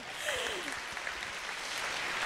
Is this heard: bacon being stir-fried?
no